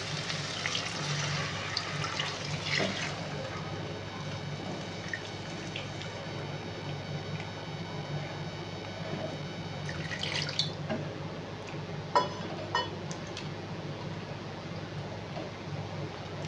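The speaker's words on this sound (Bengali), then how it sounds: "এবার এর মধ্যে আমি খুব বেশি জল দেব না, গা মাখা করব, অল্প করে জল দিয়ে দিচ্ছি।" Water trickles and pours in small amounts into a thick paneer curry masala, a faint, steady dribble with a few brief splashes near the middle, fairly close and with no voices.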